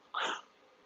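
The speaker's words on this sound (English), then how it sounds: "I gotta sneeze." A single short sneeze, close and fairly loud, with a sharp burst of breath that fades quickly into quiet.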